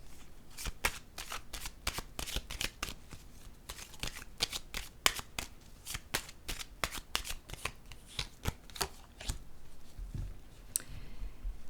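Tarot cards shuffled and drawn: rapid, crisp riffling flicks in a steady rhythm, close and clear, with no talk over them.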